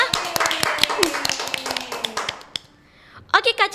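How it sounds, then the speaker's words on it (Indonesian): A small audience applauds on an Indonesian children's television segment, a quick patter of claps under a presenter's talking, thinning out before speech resumes. "kita tepuk tangan dong buat Kak Nabila."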